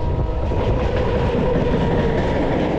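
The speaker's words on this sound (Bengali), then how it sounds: "ফুল স্পিডে ক্রস করছে ডাউন মেদিনীপুর হাওড়া লোকাল।" A Medinipur–Howrah local train passes at full speed nearby, a loud, dense roar of wheels and carriages with faint clickety-clack, continuous for the whole stretch with no voices.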